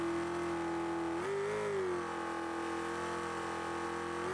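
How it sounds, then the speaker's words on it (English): A video game truck engine in BeamNG desert racing drones at a sustained high pitch, holding flat near full throttle with a brief upward swell partway through, steady and loud. "You can hear that truck just full throttle."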